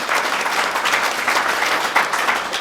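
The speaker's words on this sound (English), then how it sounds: "So just a round of applause for the board." An audience applauding a board at a fireside chat event, dense sustained clapping from a crowd, loud and continuous.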